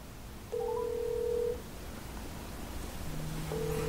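An LG G7 ThinQ phone with a BTS theme ringing for an incoming call, a steady electronic tone sounding for about a second, then a lower tone and another brief beep, faint over background hiss.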